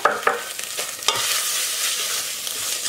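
Tarhana and flour lightly toasting in a pot for soup, a few stirring scrapes at first, then an even, close, fairly loud frying hiss carrying on alone with no voices.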